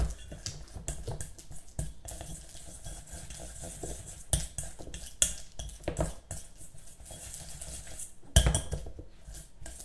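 A spoon works butter into a soft paste in a bowl, giving close, irregular scraping, tapping and soft squelching strokes at a quiet level, with no talk.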